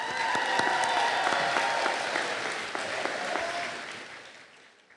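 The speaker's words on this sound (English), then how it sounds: "First of all, a round of applause." Steady clapping from a large audience at a technical school commencement ceremony, dense and sustained, gradually fading toward the end.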